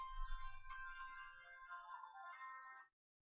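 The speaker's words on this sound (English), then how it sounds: "Phone ringing." A phone ringtone plays as a steady electronic tone for about three seconds, faint and then suddenly cut off.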